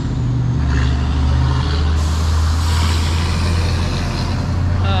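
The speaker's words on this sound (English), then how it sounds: "Dump truck" A dump truck rolls past outdoors, its loud, close engine rumble building and holding steady, with a brief hiss like an air brake partway through.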